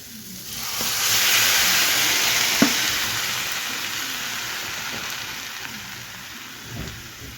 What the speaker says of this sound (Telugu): ఇప్పుడు కట్ చేసుకున్న టమాటా ముక్కలను వేయించుకుంటున్నాను